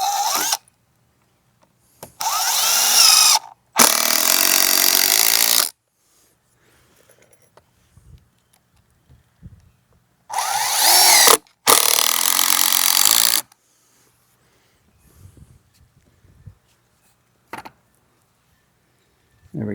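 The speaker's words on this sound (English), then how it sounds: "Since this is almost a support beam, we're going to put a few screws in it." A power drill drives screws into a wooden support beam for a walkway built on bare ground: four loud, close bursts of whirring in two pairs, separated by quiet stretches with faint handling clicks.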